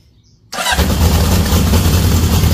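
Cold start of a 1978 Honda CB750F motorcycle engine with the choke on, catching abruptly after a short quiet moment and settling into a loud, steady, rumbling idle up close.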